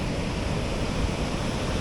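Rough sea surf on a beach roars as a continuous dense wash of crashing waves, loud and close, mixed with wind buffeting the microphone and no voices.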